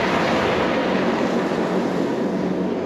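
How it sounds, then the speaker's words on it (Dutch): Train passing through a tunnel in a mountain ski area, heard as a loud, steady broadband roar and rumble that holds throughout without a break. "Daar gaat de trein helemaal doorheen."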